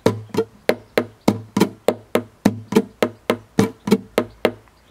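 Percussive double-strike strumming on a guitar, a steady run of about fifteen sharp, evenly spaced slaps on the strings, close and clear with nothing else under them.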